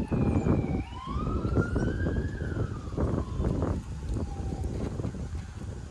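An ambulance siren sweeps up and down several times in the distance, heard through strong buffeting wind noise.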